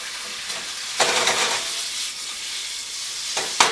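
Cubes of pork tenderloin dropped into an oiled pan over medium heat, giving a steady sizzle with a few louder bursts as pieces hit the hot oil.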